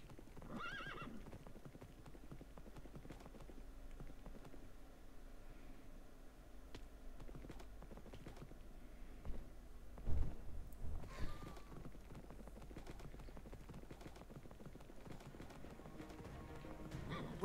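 A horse in Minecraft Dungeons & Dragons gallops with faint rhythmic clip-clop hoofbeats and an occasional whinny, quiet and steady against a soft game background with no talking.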